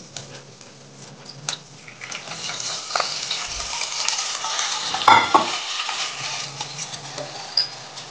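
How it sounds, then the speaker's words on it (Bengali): Ground mustard paste stirred in a bowl with a spoon, producing close, soft scraping and swishing with occasional light clinks of utensil against the vessel, a kitchen hum underneath. "সর্ষে বেটে নিয়েছি, সেটাই আমি দিয়ে দেব। এটা আমি প্রথমে গুলিয়ে নিচ্ছি, ভালো করে গুলিয়ে নেব"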